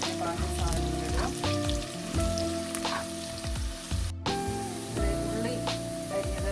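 Chopped onion fries golden brown in a pan for a baby jackfruit thoran, giving a dense continuous sizzle with irregular stirring clatter and scrapes, close by.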